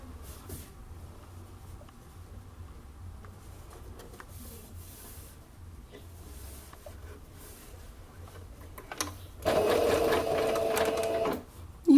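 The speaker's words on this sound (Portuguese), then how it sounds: "E vai costurando. É bem simples, bem tranquilo." A sewing machine stitches fabric for a small oral-hygiene pouch, starting with quiet handling noises before a loud, steady whirring run of about two seconds near the end.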